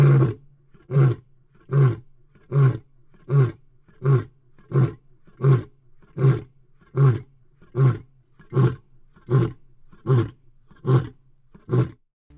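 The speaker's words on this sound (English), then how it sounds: "His roars were so deep and powerful that the vibrations could be felt in our chests." A male lion roars at night in the bush with deep, powerful calls. About fifteen loud, evenly spaced grunting roars follow each other in a steady rhythm, close and clear, with no voices.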